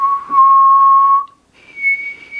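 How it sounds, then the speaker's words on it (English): A clean, close whistled tone held steady for about a second, a brief gap, then a second, higher sustained whistle note, loud and clear with nothing else around it. "I'm going to use a simple whistling sound."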